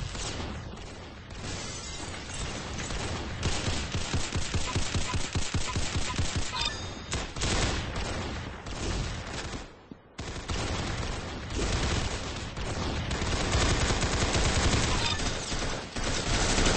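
Near-continuous gunfire from a shooter video game, dense overlapping rapid shots and impacts at high volume, with a brief lull partway through.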